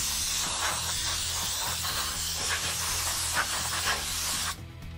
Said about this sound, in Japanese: 続いてエアダスターでホコリをね飛ばしちゃいたいと思います